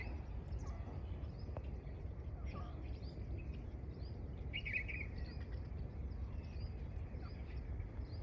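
Parrots in trees on a farm, feeding on flowers, give scattered faint chirps and calls against a steady low outdoor rumble.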